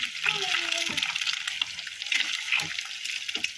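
Egg frying flat in a hot pan, a steady crackling sizzle running throughout with a voice talking faintly over it.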